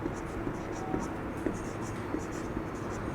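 Marker or chalk strokes on a classroom board during a Class 12 chemistry lesson on chemical kinetics, a steady run of short scratchy squeaks repeating in quick rhythm, close and fairly clear with faint background noise.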